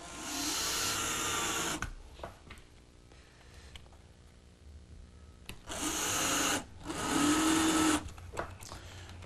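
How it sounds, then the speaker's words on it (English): A power drill whirs in two long bursts, its pitch dipping under load as it bores partway into wood, with quieter handling noises in between. "I'm going to start drilling, not all the way through, just partially."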